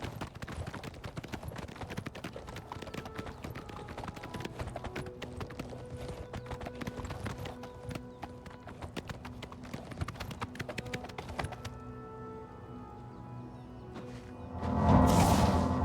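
Steady clip-clop of horse hooves trotting at an even pace in the video game Oblivion Remastered, fairly close, with a brief whooshing swell near the end.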